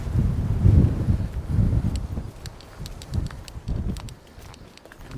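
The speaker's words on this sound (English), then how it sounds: "the wind is really strong now" Strong wind gusts across an open field at a marina touring park on an Easter Sunday afternoon, buffeting the microphone in rising and falling low rumbles with faint scattered ticks.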